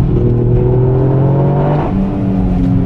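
A car drifting on a wet Nürburgring in the rain accelerates hard, its engine note loud and close with rising harmonic sweeps, dipping briefly before climbing again.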